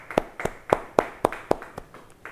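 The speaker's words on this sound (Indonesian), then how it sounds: "Yang senang, yang happy, beri tepuk tangan bagi dia." A church congregation at a Bible study claps in a brief, fairly even burst of about eight sharp claps. The claps fade toward the end, and no voices are heard.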